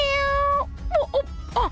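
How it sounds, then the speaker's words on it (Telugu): A cat meows several times, first a long held tonal cry, then a few short bent meows in quick succession, close and fairly loud. "అందుకే చిత్ర విచిత్రమైన సౌండ్లు చేస్తుంది. ఇది ఖచ్చితంగా పిల్లే."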